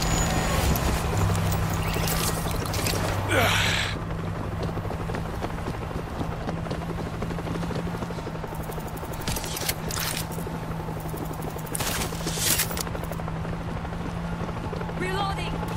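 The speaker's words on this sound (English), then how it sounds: "I'm going to use the helicopter to draw them away from the bay." A helicopter in the World War Z video game drones with a steady low hum and rotor noise under the game's ambient noise and gunfire. A few louder bursts rise briefly.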